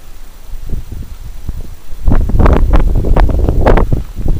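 Wind buffets the microphone on the ice while ice fishing for pickerel, with low rumbling gusts, gentler at first and then stronger and rougher, with no talking.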